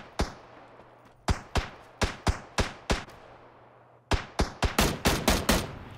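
Sharp gunshots in the PUBG video game, a spaced series of single loud reports followed by a quicker volley of shots, each with a short decaying echo, no voices.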